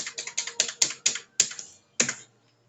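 A password being typed on a computer keyboard, heard as about a dozen close, crisp key clicks in an uneven rhythm that slows toward the end, with no voices.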